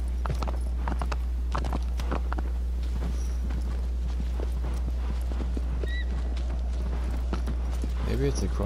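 Rhythmic horse hooves clip-clopping at a steady walking pace over a constant low hum in the video game Shadow of the Colossus, with a brief whinny-like sound near the end.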